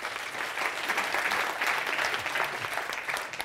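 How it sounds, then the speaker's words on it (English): An audience applauds for Ray Quintana of Cottonwood Ventures at a blockchain funding talk at Nyenrode Business University: steady, dense clapping from a roomful of people, holding level throughout and easing slightly at the end. "So an applause for Ray Quintana from Cottonwood Ventures."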